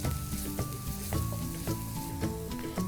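Spices with red chili powder and turmeric sizzle loudly in a pan, a dense close crackle broken by several clinks and scrapes of a spoon stirring, with a faint ringing tone behind.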